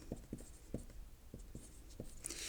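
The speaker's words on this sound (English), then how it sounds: "I'm just going to write this down while I'm at it" Pen writing coordinates by hand on paper, a string of short close scratchy strokes in an irregular rhythm, quiet and with no talking.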